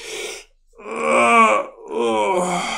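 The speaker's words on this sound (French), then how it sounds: "Vous me voyez en train de bâiller" A person gives a long, drawn-out vocal yawn, with a short breath first and then two sustained groaning exhalations in a row, close and clear, with no other talk.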